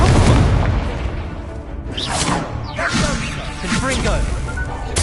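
Incendio fire spell cast in the PS5 game Hogwarts Legacy, a loud whooshing burst with booming impacts and crackling flame that roll on across several seconds under a spoken voice.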